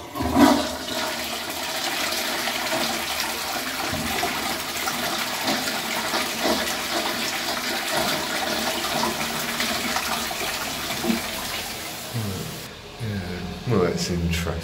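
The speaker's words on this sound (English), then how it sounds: "Magnia pattern scenery from the 90s, but yeah, concealed cistern there." A concealed-cistern toilet in a pub in Wigan, fitted with 1990s Magnia flush gear, gives a loud, continuous rush of water that runs for most of the time. It ends with refill gurgles and some nearby handling noise.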